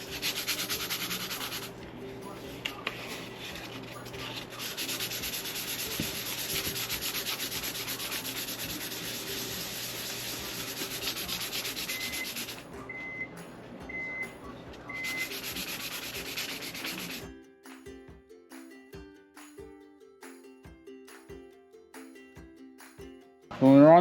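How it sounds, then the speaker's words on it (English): Sandpaper is rubbed by hand across a panel of a 1987 Jeep Wrangler under restoration, a steady close scratchy rasp for most of the stretch that breaks off near the end into quieter intermittent taps. "Throw a little sanding on here."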